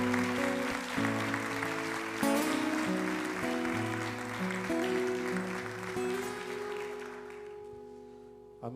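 Church congregation applauding, a soft wash of clapping under sustained organ or keyboard chords that fade out near the end.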